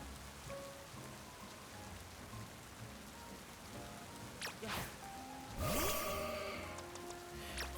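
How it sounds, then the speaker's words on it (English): Soft rain falls steadily in the Pokemon Legends Z-A video game as a faint, even patter, with brief brighter game effects rising near the end. "it's raining."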